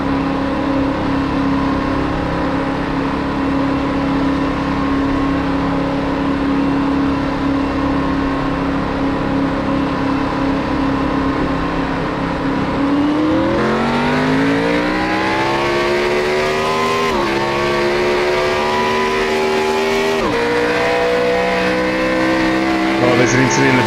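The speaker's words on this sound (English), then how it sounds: "Let's listen for the engine." Race car engines in the ANZCAR racing game at Phoenix on a restart: a steady loud engine drone shifts into rising, roaring acceleration with repeated gear-change surges, dense and continuous.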